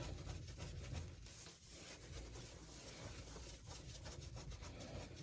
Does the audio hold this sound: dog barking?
no